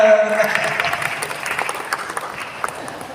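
An audience at the swearing-in ceremony of the PPS Putra Betawi board bursts into applause, starting loud with a voice briefly over it and then thinning out into scattered claps.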